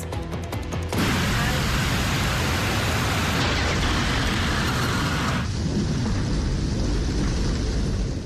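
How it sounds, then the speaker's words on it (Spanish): A thunderstorm with heavy rain pours down in Guayaquil, a dense, loud, continuous roar that swells and then eases slightly. Deep thunder-like rumbling runs beneath it, and no one talks. "Los relámpagos lo iluminaban una y otra vez, y los truenos hacían retumbar techos y calles."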